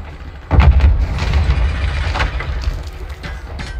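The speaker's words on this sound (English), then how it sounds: "I'm gonna nade over the wall, John." A grenade thrown over a wall goes off in Call of Duty Modern Warfare 2, a loud boom about half a second in followed by a rumbling, crackling tail and scattered distant battle noise.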